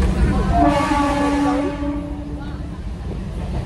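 A moving passenger train rumbles loudly and continuously from close by, with a tonal, horn-like wail in the first second and a half before it settles into a steady roar.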